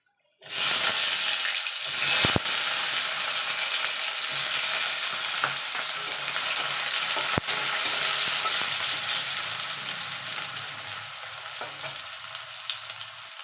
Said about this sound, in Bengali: এই তেলে আমি আলু আর বেগুনটা ভেজে নেবো